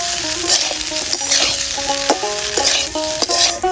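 Masala pasta is being stirred in a pan after Maggi masala seasoning goes in, giving a steady scraping and sizzling under frying noise. The sound runs continuously and close, with repeated utensil strokes and no talk.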